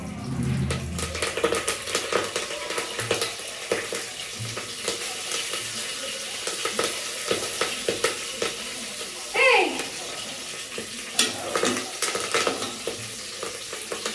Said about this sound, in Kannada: ಇವಾಗ ಕರ್ಬೇನ್ ಸೊಪ್ಪನ್ನ ಹಾಕ್ತಾ ಇದ್ದೀನಿ